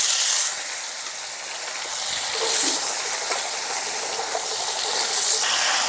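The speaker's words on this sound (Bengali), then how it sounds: "আলুগুলোকে লাল করে ভেজে নেব।" Potatoes fry in hot oil in a pan with dried chilli, bay leaf and cumin, giving a loud, steady sizzling hiss that swells and eases slightly throughout, with no voices.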